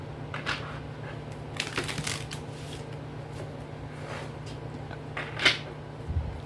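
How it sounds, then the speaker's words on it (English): Tarot cards being shuffled in quick papery riffles, with soft bursts of rustling and a sharper snap near the end, close by and fairly quiet. "Do one more hard shuffle."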